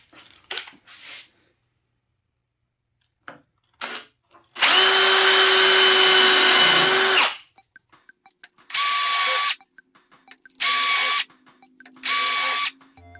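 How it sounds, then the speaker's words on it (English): A power drill with a 1/8 inch bit bores a starter hole in one long whirring burst, followed by three shorter spins, with quiet handling noises between them. "Then I'm going to come back with a 1/8 inch drill bit for a starter hole."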